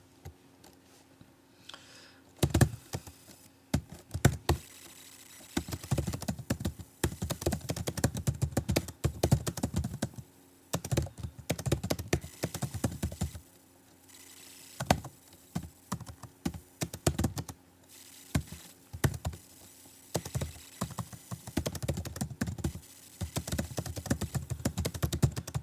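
Typing on a computer keyboard, close and clear, with bursts of rapid key clicks broken by short pauses over about twenty-five seconds, no talking.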